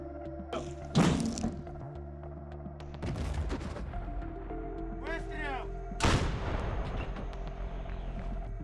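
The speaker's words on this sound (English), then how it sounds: "artillery opened fire on the building used as a temporary deployment and also used as a control center." Artillery fire: three heavy booms land about three seconds apart, each a sharp blast that rolls off into rumble, with steady background noise between them.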